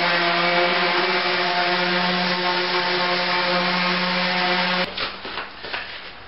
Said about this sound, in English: now I'll sand the entire top and the edge with the orbital sander